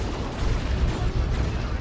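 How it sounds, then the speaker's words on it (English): A Plague Marines missile launch in Dawn of War 2, a heavy rumbling boom with explosive low-end crackle among ongoing battle noise, loud and continuous for under two seconds. "Here come the Plague Marines, and they're going to get at least one missile off."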